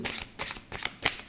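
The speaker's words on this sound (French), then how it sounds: "Alors, on mélange les cartes" Tarot cards being shuffled by hand in a few quick riffling bursts, close and crisp.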